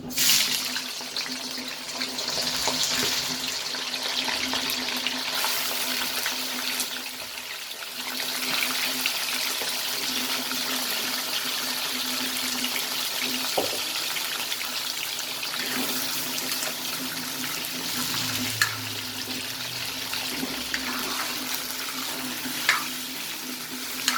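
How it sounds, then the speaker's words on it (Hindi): Chicken pieces frying in hot oil in a pot for a restaurant-style Shinwari chicken karahi, a steady loud sizzle throughout with occasional stirring clatter and no talk. "अब इसका कलर तब्दील होने तक हम इसको अच्छी तरह से फ्राई करेंगे।"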